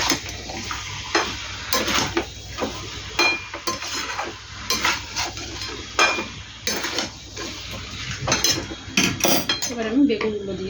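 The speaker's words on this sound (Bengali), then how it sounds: "এবার একটু নেড়ে দেবো বন্ধুরা" A spoon scrapes and clanks repeatedly against a cooking pot as potatoes and aubergine are stirred, giving sharp metallic knocks in an irregular rhythm over a faint sizzle.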